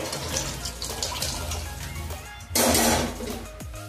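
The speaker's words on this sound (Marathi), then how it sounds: "आता या तुरीमध्ये मी 4 जग पाणी घालते" Water pours steadily into a pot of pigeon peas, a brief louder splashing rush near the end over running liquid sounds.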